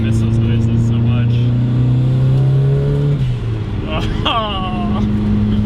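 A turbocharged Mazda Miata engine roars and revs at close range, pitch climbing steadily before dropping, then surging again in a quick burst; loud and continuous.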